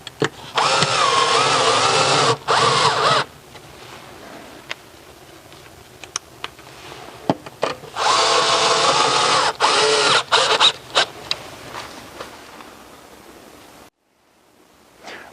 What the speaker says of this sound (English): Now we're going to screw directly into the wall